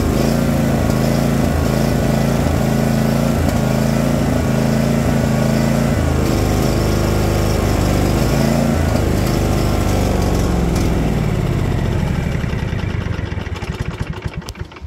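John Deere lawn tractor engine running rough on choke, a loud close steady engine drone with uneven lumpy firing that fades and dies away near the end; no talking.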